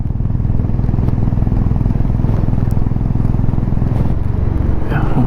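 A Honda Highness motorcycle carrying a pillion rider and luggage cruises on a mountain road near Hanle, Ladakh, its engine giving a steady, close low rumble with wind noise throughout.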